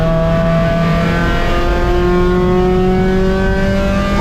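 A race car engine accelerates hard on the track at NCM on cold tires in the rain, a loud, close, steadily rising roar held throughout.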